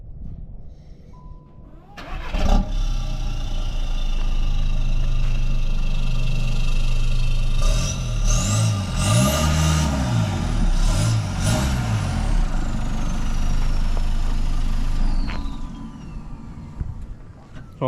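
Engine of a Panzerwagen under repair for possible flywheel failure cranks and starts after a brief tone, then runs loudly nearby and drives off with shifting revs, fading slightly near the end.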